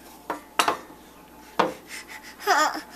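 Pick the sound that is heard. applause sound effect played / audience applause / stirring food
stirring food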